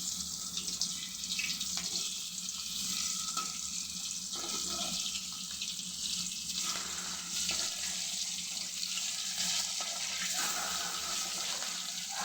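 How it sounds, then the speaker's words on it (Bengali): Hilsa fish pieces fry in a pan with a steady, continuous hiss of oil that stays fairly close and even for the whole stretch, with no talking. "আমি এখন ইলিশ মাছের ভাজি করছি।"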